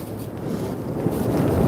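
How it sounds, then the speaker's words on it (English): Wind rumbles and buffets against the microphone in a low, steady roar that swells slightly toward the end, with no voices. "It's a windy night tonight."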